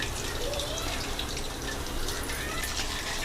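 Chicken cashew pakodi fry in oil over a medium flame, giving a dense, loud, unbroken crackling hiss close up.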